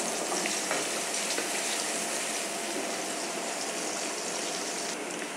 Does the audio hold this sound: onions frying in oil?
yes